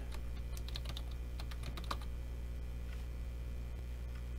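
A name is typed on a computer keyboard in a quick burst of close, crisp key clicks over a low steady hum, then the keys fall quiet.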